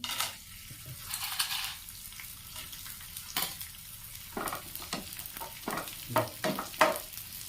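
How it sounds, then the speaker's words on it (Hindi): Edible gum pieces fry and puff in hot ghee, giving a soft continuous sizzle broken by scraping stirs and small bursts of crackling, close and fairly quiet. "सभी को हम इसी तरह से गोंद को भून लेते हैं"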